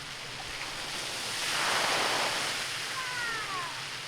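A large, new 10,000-square-foot splash pad at Greenleaf State Park makes a continuous rushing spray of water that swells briefly, heard up close with no talking.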